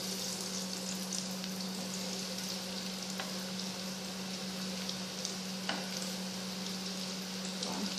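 Breaded bananas fry in hot oil over medium heat, giving a loud, steady crackling sizzle up close, with faint clicks and spatters scattered through it and no talk.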